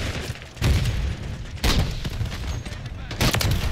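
Heavy anti-materiel rifle fire from the KATT-AMR fitted with the JAK Salvo kit in a video game: three loud, booming shots roughly a second apart, each with a sharp crack and rolling low tail.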